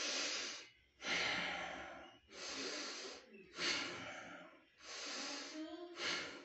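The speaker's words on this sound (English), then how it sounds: "start deep breathing." Deep, slow breathing by a person lying face down in a prone position for ventilator-style breathing: about five long, loud inhale-exhale cycles, close and alone, each breath separated by brief pauses.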